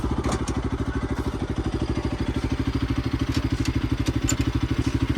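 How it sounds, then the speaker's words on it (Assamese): A motorcycle engine idles steadily nearby, its rapid, even thumping pulse continuing without pause, with faint clatter above it. "বাইকখন বন্ধ কৰা আৰু তেল বেছিকৈ যাব"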